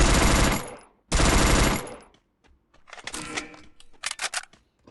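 Bursts of rapid automatic gunfire ring out in a shooting video game, two long loud volleys followed by a scatter of shorter, quieter shots and clicks.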